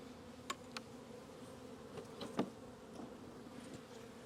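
Honey bees buzz steadily close by during a hive check, a low droning hum with a few sharper passes as individual bees fly near.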